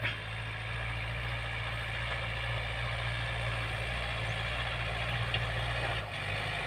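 A 51-horsepower Yanmar farm tractor engine idles in a steady, loud, low rumble that drones on without change, with no talk over it.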